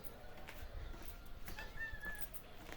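A faint, thin cat meow drawn out for about a second, somewhat distant over low background noise, near pigeon coops.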